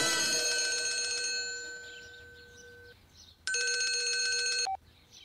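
A telephone rings with a bright, bell-like trill that sustains and then fades, pauses briefly, and then rings again loudly before being cut off.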